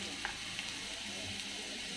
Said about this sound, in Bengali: কড়াইয়ে তেল দিয়ে আমি আলু আর পেঁয়াজটা ভেজে নিচ্ছি